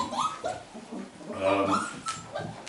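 A litter of four-week-old Berger Blanc puppies whimpers and yips in short, high, overlapping cries close by, with a person talking over them.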